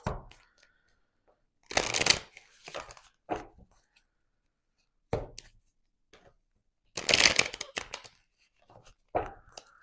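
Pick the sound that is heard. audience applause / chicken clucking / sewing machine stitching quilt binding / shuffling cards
shuffling cards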